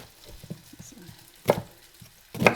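Meatballs frying in a pan give a soft background sizzle, broken by two louder bursts of sizzling and pan clatter as they are stirred or turned.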